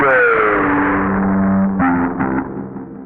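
Bass guitar through a Ghost pedal with delay repeats run into distortion, a sustained gritty tone trailing into fuzzy echoes that pulse and fade toward the end, played alone without talk.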